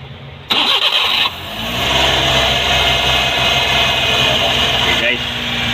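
A car engine cranks and catches after its throttle body has been cleaned, a loud close start that settles into a steady mid-pitched idle, with a voice talking over it.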